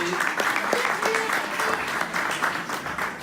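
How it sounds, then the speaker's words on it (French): Applause for young boxers at a departmental amateur boxing championship semifinal, a steady patter of clapping from a modest crowd under ongoing talk. "Alors, avant la décision, on va les applaudir."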